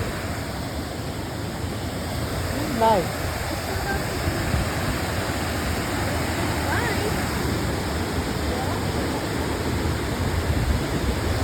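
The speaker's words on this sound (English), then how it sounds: "It's a waterfall." A waterfall on a nature walk, a steady broad rushing roar that fills the whole scene without break, with a brief spoken word and faint voices partly buried under the water.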